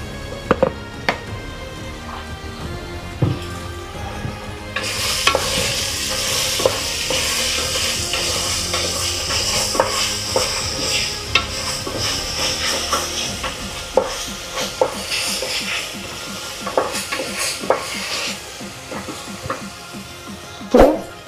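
Oil sizzles loudly in a pan as boti curry, goat tripe, is stirred, a steady crackling hiss broken by frequent scraping knocks of a spoon against the pan, close and continuous with no talking.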